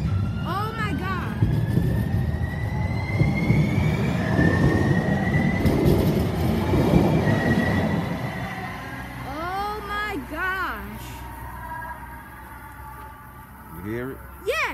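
A Charlotte, North Carolina light rail train rumbles past nearby with a broad, heavy roar that fades, followed by scattered rising and falling wheel squeals and tones, while people talk over parts of it.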